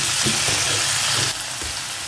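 Tomatoes dropped into ginger and garlic frying in a pan for Chettinad potato curry: a loud, close, steady hiss of sizzling oil that briefly drops in level partway through.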